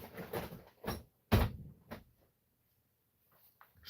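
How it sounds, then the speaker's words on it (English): An indoor door being shut, with several thumps and one sharp closing knock among quieter rustling, followed by near silence. "Close the door."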